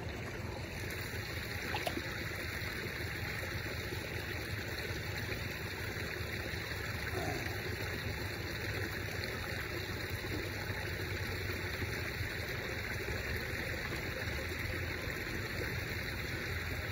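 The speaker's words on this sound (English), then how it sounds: "that creek's probably real loud. It's a little feeder stream here." A small feeder creek runs steadily nearby, a continuous broadband rush of flowing water that holds an even level for the whole stretch, with no voices over it.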